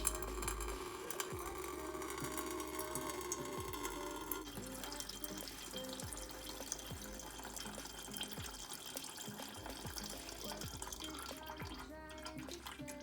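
Melted soy wax running and dripping from the tap of a Soylite wax melter, a steady liquid pour with faint splashy drips and a constant background hum throughout.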